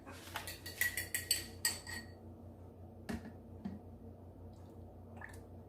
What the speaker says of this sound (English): pour the rest of our caldo de pollo in there